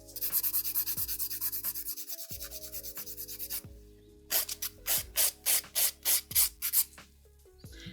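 Close, loud nail file rasping on an acrylic nail during a manicure, with fast continuous strokes for about three and a half seconds and then a run of about eight separate, evenly spaced strokes, with no talking.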